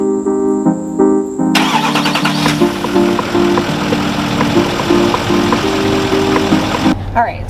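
Truck engine cranking and catching, then settling into a loud, rough, steady idle as it warms up, with a starter tone audible at first and voices present.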